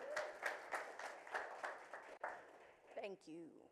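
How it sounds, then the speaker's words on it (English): A small audience at a Growth Summit session claps to welcome a speaker, soft and fairly distant, and a voice starts talking near the end. "Let's give a round of applause for her"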